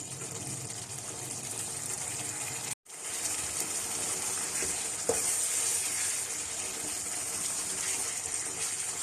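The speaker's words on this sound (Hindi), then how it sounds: "अब मैं इसकी भुनाई करना शुरू करती हूँ, तो आंच को हम तेज़ कर देते हैं।" Meat stir-fried (bhuna) over high heat for Bihari boti masala gives a steady, close sizzling hiss that holds evenly throughout, broken only by one brief gap, with no talking.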